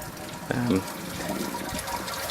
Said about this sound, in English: Sparging with 16 litres of water for this recipe.